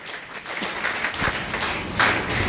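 Congregation applauding during a church service, a dense continuous wash of many hands clapping at steady loudness, filling the room with a brief louder surge near the end and no clear speech over it.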